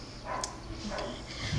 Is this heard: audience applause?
no